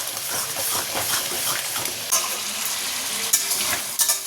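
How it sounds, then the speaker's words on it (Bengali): Turmeric, Kashmiri red chilli powder and a little chilli powder fry in hot oil with salt, giving a loud, close sizzle under constant scraping and stirring in the pan. "হলুদ, কাশ্মীরি লাল লঙ্কার গুঁড়ো আর অল্প একটু লঙ্কার গুঁড়ো দেবো, দিয়ে ভালো করে কষিয়ে নেব।"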